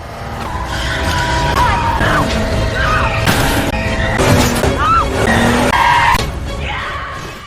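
A car speeds away from a parking area during a movie chase, tires squealing and skidding several times over a steady engine roar, loud and close, with other vehicle noise mixed in.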